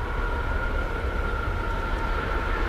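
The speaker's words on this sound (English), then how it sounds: "There's a train without any lights coming on." An ACS64 electric locomotive approaches Paoli station, a loud, steady mechanical drone with a faint whine running through it, heard alone without speech.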